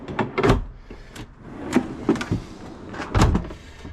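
A large drawer in an overlander camp kitchen slides out with a series of clunks and rattling knocks, close and fairly loud, against quiet surroundings.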